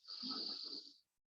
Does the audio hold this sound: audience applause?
no